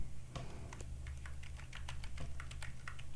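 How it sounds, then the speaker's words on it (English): Typing on a computer keyboard: a quick, irregular run of light key clicks, close and fairly faint over a low steady hum. "just to click on the description and start typing"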